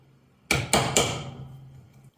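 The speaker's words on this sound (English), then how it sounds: "So I should be able to just tap that out now with a hammer." A hammer taps a door hinge pin on a 1981 Holden WB ute, three sharp metallic strikes in quick succession, close and loud, each ringing briefly before fading into a quiet hum.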